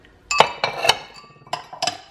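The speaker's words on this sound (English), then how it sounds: "So we have a lot of Asian inspired plates and dishes" Asian-inspired plates and dishes, including Japanese earthenware bowls, clink in a kitchen: several sharp ceramic knocks in an uneven sequence, close and clear with no voices.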